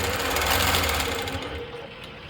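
A longarm quilting machine hums and whirs steadily while stitching, close and continuous, easing slightly toward the end with no talk over it.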